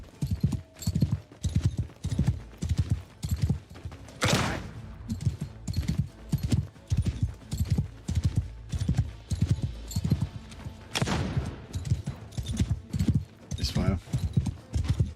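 Horse archers gallop across the battlefield of Total War: Warhammer in the Old Realms mod, their hooves drumming in a fast, continuous, evenly pulsing rhythm, with occasional sharp volleys cutting through and someone talking throughout.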